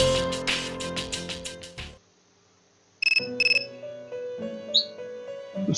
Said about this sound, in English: The cell phone is ringing.